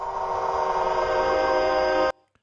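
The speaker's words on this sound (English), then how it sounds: "Create a sound where a train passes by and becomes a lush string orchestra." A train passes close by in a steady, loud roar with tonal horn-like bands. It cuts off abruptly near the end, leaving near silence and one faint click.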